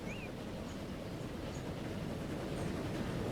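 A train passes in the Transport Fever 2 video game, producing a steady, even rumble of rolling wheels and carriages that holds at a constant level for the whole stretch, with no talking.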